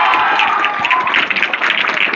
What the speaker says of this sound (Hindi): अगर समझ में आता है सर पढ़ाते तो जोर से तालियां मारिएगा